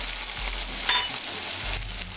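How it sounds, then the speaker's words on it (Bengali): Ground cumin, coriander and dried red chilli pastes frying in oil for a Bengali katla fish curry, a continuous close sizzle with a brief spoon scrape partway through. "দিয়ে এটা আমি ভালো করে কষিয়ে নেব"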